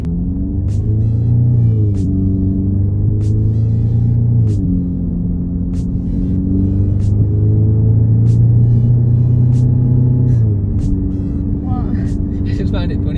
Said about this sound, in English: how you just drove my car and just did two launch controls